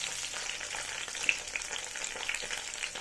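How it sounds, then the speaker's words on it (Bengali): Mixed vegetables for Bengali shukto fry together in hot oil in a pan, giving a steady close sizzle with faint crackles and light stirring, no voices. "একসাথে করে নিয়েছি, একসাথেই ভেজে নেব"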